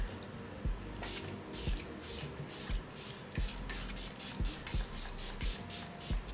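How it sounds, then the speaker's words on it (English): Milani sunscreen setting spray is misted onto a face in a rapid series of short, close hissing bursts, roughly a dozen quick pumps in a steady rhythm. "Milani has a sunscreen setting spray that I'm also going to use."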